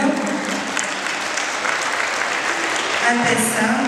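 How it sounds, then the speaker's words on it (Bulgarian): Applause from an audience at the opening ceremony of a national tournament in Burgas, steady and dense throughout, loud and close, with a faint voice emerging near the end. "Моля, аплодисменти за официалните гости на турнира."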